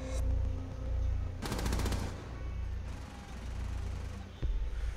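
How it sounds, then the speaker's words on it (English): A folding machine gun in Rainbow Six Siege fires a quick rapid burst of close, loud shots, with a single sharp report near the end over steady in-game background noise. "that folding machine gun"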